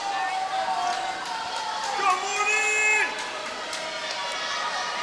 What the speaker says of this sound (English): so many teammates still here cheering on these relay teams